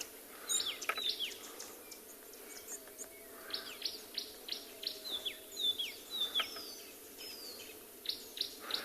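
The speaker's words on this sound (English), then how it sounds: "It's a green-backed Cameroptera." A green-backed camaroptera gives repeated loud clicking calls in a stretch of African savanna with big fruiting trees, close and sharp over a steady drone of insects.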